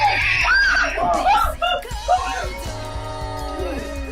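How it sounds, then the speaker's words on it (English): Several people scream and shriek loudly together, with laughter and yelling mixed in, gradually dying down. "Oh my god, everybody's fucking screaming!"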